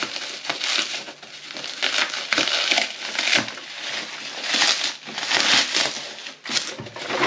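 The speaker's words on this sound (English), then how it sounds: "packaging open now." Plastic and cardboard packaging of a Matchbox diecast convoy toy truck set crinkles and crunches as it is pulled open, in close, irregular bursts of crackling with no speech.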